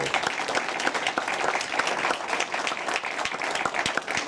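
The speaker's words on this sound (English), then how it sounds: "A round of applause for Richard as well." An audience at a Brexit debate claps for several seconds in a dense, steady round of applause that stays even throughout, with no voices on top.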